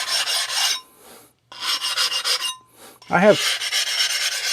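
Aogami 2 steel bunka knife being thinned on a coarse Shapton Glass 220 whetstone, giving loud repeated rasping strokes in bursts separated by short pauses, with a brief spoken phrase near the end.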